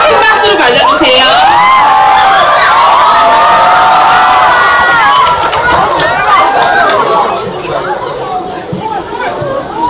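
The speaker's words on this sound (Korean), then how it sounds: "큰 박수로 맞아주세요" A large cinema audience at a film stage greeting cheers, whoops and claps loudly and continuously, with shouting voices mixed in, easing slightly toward the end.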